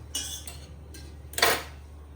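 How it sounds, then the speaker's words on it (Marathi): Metal utensils clatter against a pot or strainer while coffee is made by hand, two short bursts of clinking and scraping close by, the second louder, with no talk. "कॉफी बनवतोय चाळणीने असं असं असं असं करून"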